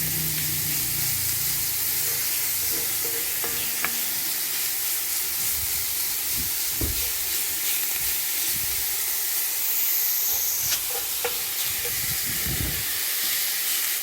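Ground filling browning in an oiled pan for stuffed zucchini gives a steady, close sizzle and hiss throughout, with a few faint clicks and scrapes and no talking.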